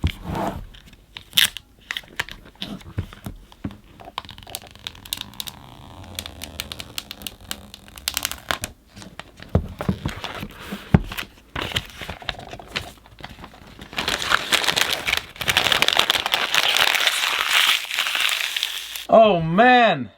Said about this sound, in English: let's remove this plastic